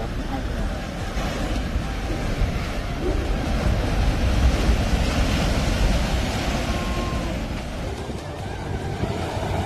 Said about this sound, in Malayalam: സ്ട്രോങ് ആയിട്ടുള്ള തിരകളാണുള്ളത്